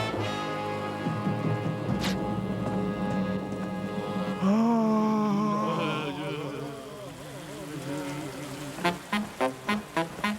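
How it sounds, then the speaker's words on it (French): Rain falls as a continuous hiss in an animated Western scene, running beneath music and a character's voice, with a series of sharp rhythmic knocks near the end. "Tiens, il pleut."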